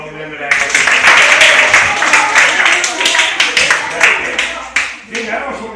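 A small group claps and cheers for several seconds, the applause close and lively, with voices mixed in.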